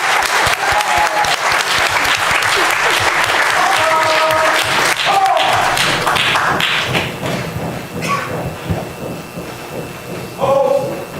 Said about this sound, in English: I'm going to allow the audience to clap for these young people.